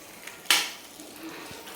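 A spoon scrapes through soaked paneer tikka mixture in a pan for dhaba-style paneer tikka masala, giving one sharp close stroke followed by a faint lingering rustle and gentle sizzle.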